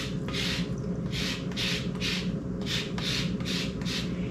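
A lemon is zested on a grater, with about eight rhythmic rasping strokes in a steady back-and-forth pattern. The scraping is close and moderately loud over a low background hum.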